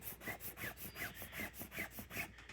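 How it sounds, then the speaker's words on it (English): The fabric of a camping sleeping mattress pad is rubbed back and forth, making a quiet, regular scratchy swishing about three to four strokes per second, close up and alone. "fairly easily does this scratchy DJ Wicka Wicka thing"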